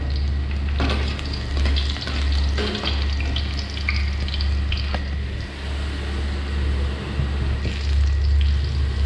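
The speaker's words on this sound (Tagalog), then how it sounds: "Igisa muna natin yung bawang, sibuyas at luya. Saka natin ilagay yung alimasag." Garlic, onion and ginger sauté in oil before crab goes in, giving a loud, continuous close sizzle with wet stirring and squishing throughout, no voices.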